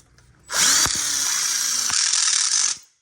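A loud impact drill drives self-tapping screws, whirring steadily for about two seconds, a continuous high mechanical whine with ratcheting texture, then winds down; no voices.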